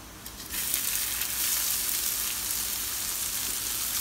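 Rice frying in a pan with light-brown onions, bay leaf and cumin, a steady close sizzle that swells as the rice goes in and keeps crackling evenly, no talk.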